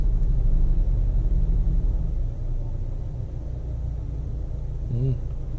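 A car engine idles in gear with the air conditioning running, a steady low rumble close by that dips slightly partway through.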